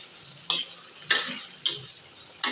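Fried pointed gourd pieces dropped into a yogurt gravy and stirred, giving several sharp scraping strokes with a soft sizzle between them, close up with no talking.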